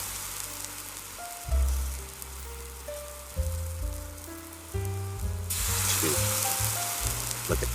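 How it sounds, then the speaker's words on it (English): Pumpkin French toast slices sizzle in a frying pan, a steady broadband crackle running throughout under a melodic backing track of music, with the frying growing brighter and louder in the last few seconds. "Look at that sizzle."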